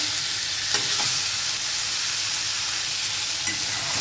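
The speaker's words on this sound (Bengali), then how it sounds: "আগে থেকে সেদ্ধ করা আলুটা এই মশলার সাথে বেশ ভালোভাবে একটু ভাজা ভাজা করে নেবো" Boiled potatoes fry with spices in a pan, giving a steady, even sizzle with a few faint clicks of stirring.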